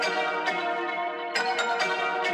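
Synth bells pitched up an octave ring in a bright repeating pattern, harmonic tones with sharp high transients on each strike, loud and alone.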